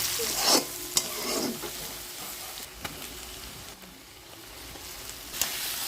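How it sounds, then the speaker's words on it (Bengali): Chopped onion frying and being stirred in a pan, added after the first half has fried; a steady close sizzle with several sharp scraping stirs of a utensil spread through the stretch, no talk. "অর্ধেকটা ভাজার পরে দিলাম কুচানো পেঁয়াজটা"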